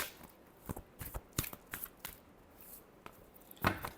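Tarot cards being shuffled by hand, soft close riffles and flicks in several quick bursts over a quiet background.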